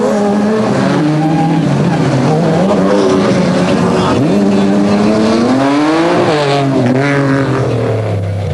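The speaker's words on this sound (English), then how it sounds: "Woolwich and Skoldhammer first away in the Moreca Ford" Off-road race cars and trucks, including a V8-powered Moreca Ford, roar past in a South African off-road race, loud and continuous, with engines revving and shifting pitch as they accelerate and pass close by.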